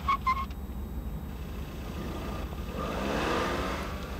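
A heavy four-wheel-drive Toyota Celica drives past, its engine and road noise a steady low rumble that swells gradually toward the end, with a couple of brief electronic beeps near the start.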